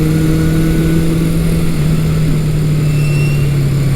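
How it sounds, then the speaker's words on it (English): A 1975 Honda CB550 Four motorcycle running through a 4-into-1 exhaust gives a steady, loud, even engine drone with a constant tone and no talk over it. "The sound is really nice coming out of that 4-into-1 exhaust. It has just a little bit of tone."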